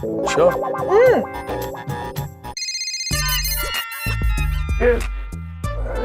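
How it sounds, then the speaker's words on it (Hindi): A phone ringtone plays as an electronic melody, loud and up close, with voices speaking over parts of it. "मेहता का फोन"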